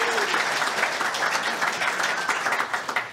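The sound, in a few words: audience applause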